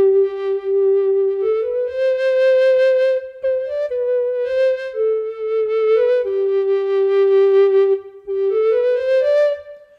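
A sampled tenor folk recorder from the UVI World Suite 2 library plays a breathy, flute-like melody of sustained notes with gentle slides between pitches, clear and alone.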